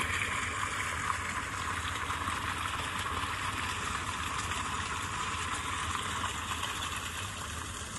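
A farm tube-well motor pump runs at full flow, a constant loud rushing of water over a steady mechanical drone, close and unbroken throughout, with no talking.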